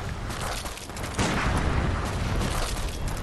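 A loud gun blast in the video game Bloodborne amid a dense wash of combat noise, with a sharp surge about a second in that stays intense to the end.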